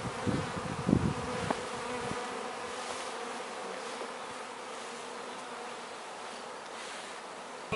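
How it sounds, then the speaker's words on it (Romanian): A swarm of honeybees hums in a continuous, even buzz, close at first with a few louder bursts, then settling into a steady drone with no voices. "E o frumusețe de roi."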